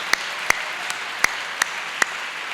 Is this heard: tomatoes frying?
no